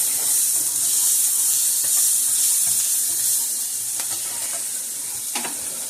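Vegetables fry for a grain-free roux gravy to serve with turkey wings. The pan gives off a loud, steady sizzle with a bright hiss, and occasional stirring scrapes break through. No one speaks.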